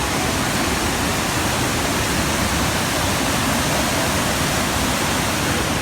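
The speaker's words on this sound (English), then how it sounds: "Here's the waterfall right here." A mountain waterfall on the Portuguese Camino roars steadily and loudly, a dense, unbroken rush of falling water filling the whole clip.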